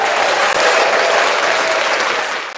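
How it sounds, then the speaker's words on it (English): Loud, dense applause from a live radio show audience, steady clapping throughout that tails off slightly at the end. "Round of applause for Timex."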